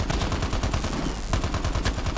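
Rapid automatic gunfire from a weapon in Call of Duty Mobile, a steady fast rhythm of sharp shots, loud and continuous with a brief lull midway.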